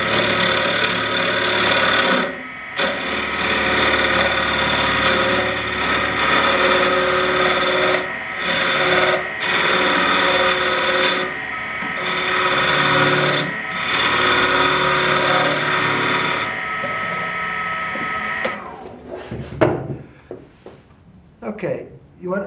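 Wen 3427 wood lathe turning a rectangular ebony and lacewood veneer pen blank, a steady close motor whine with scraping cut noise that drops out briefly several times before the machine winds down near the end.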